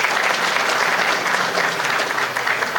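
An audience at a Medal of Honor ceremony applauds a visiting mayor as he is introduced, producing a dense, even roll of many hands clapping that continues steadily throughout.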